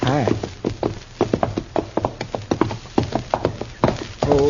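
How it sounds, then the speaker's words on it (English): Horses in a 1952 Gunsmoke radio drama, a steady rhythmic clip-clop of hooves on hard ground, fairly close and prominent and continuing throughout. "You think he let the horses go, Mr. Dillon?"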